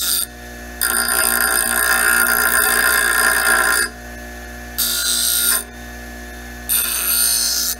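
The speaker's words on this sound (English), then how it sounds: "we've got our needle nose vise grips, and we're going to just take the burrs off" Needle-nose vise grips grinding burrs off a door hinge pin, a loud harsh buzzing rasp in three separate bursts, one long then two shorter, with a steady hum between them and no talking.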